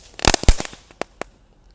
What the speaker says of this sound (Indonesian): ini ada mercon ayam jago berkokok di air guys